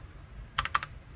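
A quick burst of four crisp clicks from typing on a SKYLION G300 mechanical keyboard, close up against a quiet background.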